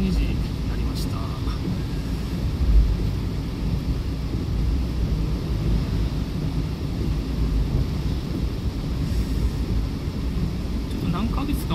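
Rain in the town streets of Konan, Kumagaya, Saitama, heard as a steady broadband wash of rainfall and wet road noise, constant and fairly loud throughout with no clear breaks.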